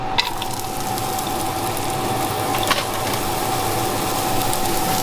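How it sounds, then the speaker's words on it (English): Chopped onions sizzling in heated olive oil in a pan for paella, a steady crackling hiss running throughout with a faint constant tone and a few brief clinks. "I've heated up the olive oil, and I'm now going to put the onions in."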